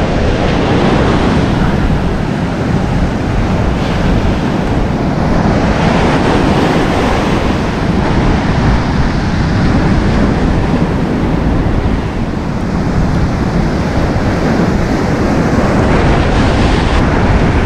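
Heavy ocean surf on a beach in pouring rain, a loud continuous roar of breaking waves and rain with wind buffeting the microphone throughout.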